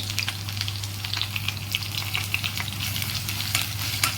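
Fresh ginger garlic paste frying in a pan for a mushroom brown rice pulao gives a steady, close sizzle with light crackling and occasional stirring over a constant low hum, with no voices.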